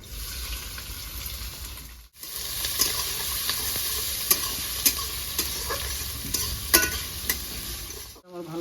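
Pabda fish with bay leaf, cloves, cardamom and chopped onion frying in a pan, a steady close sizzle with repeated spatula stirs and scrapes, alone without talk.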